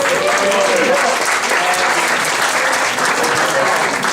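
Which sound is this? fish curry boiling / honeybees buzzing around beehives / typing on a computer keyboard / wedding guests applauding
wedding guests applauding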